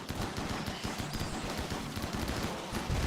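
Deployable mini turrets in RimWorld fire in dense, continuous rapid bursts, a loud clattering barrage of gunfire that runs without pause from start to end, with no voices over it.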